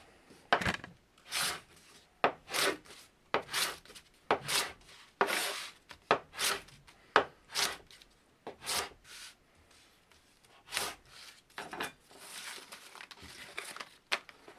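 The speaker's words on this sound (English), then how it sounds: "It shouldn't have any trouble whatsoever cutting through cardboard" A Buck PakLite Skinner knife slices through cardboard in a quick run of short scraping, tearing cuts, about a dozen close strokes in an uneven rhythm with brief pauses between.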